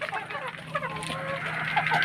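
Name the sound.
chickens (Black Australorp, Barred Plymouth Rock, Rhode Island Red)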